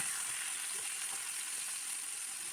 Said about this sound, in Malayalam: എണ്ണ ചൂടായി വന്നു കഴിയുമ്പോൾ നമുക്ക് അതിലേക്ക് മീൻ ഓരോന്നായിട്ട് ഇട്ട് കൊടുക്കാം